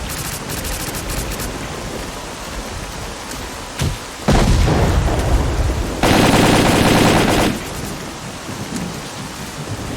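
Loud bursts of automatic gunfire in S.T.A.L.K.E.R. Call of Pripyat, with dense sustained volleys standing out against a constant roar of rain and storm noise.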